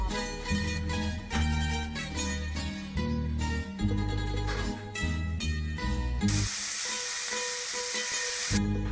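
Beef pieces fry in hot oil, a continuous sizzle running beneath loud background music for the whole stretch.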